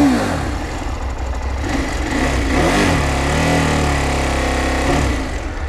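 A 2019 KTM 790 Adventure's LC8c engine revs up and settles, its pitch rising and falling smoothly over a steady idle, loud and close with no talking.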